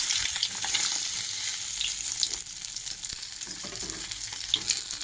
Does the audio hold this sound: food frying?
yes